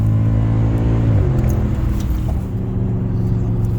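A Mercedes W211 E63 AMG engine pulls hard under acceleration, a loud, deep, continuous roar heard from close by that shifts pitch partway through and keeps droning without pause.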